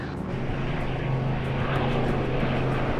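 Propeller airplane aborting a landing approach and going around, its engines droning loud and steady at high power with a strong low hum, close and continuous.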